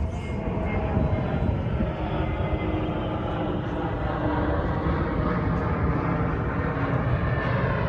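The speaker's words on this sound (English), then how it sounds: "That's a big plane." A large airplane passes overhead as a steady, broad roar of jet engines that holds evenly throughout, filling the outdoor scene without any talk.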